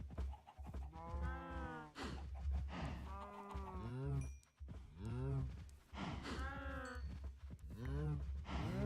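Several drawn-out, low mooing calls from Minecraft cows in a farm pen, coming one after another close by, with short gaps between them.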